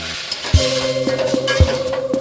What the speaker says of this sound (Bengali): এবার আমি এর মধ্যে পটলগুলো দিয়ে দিলাম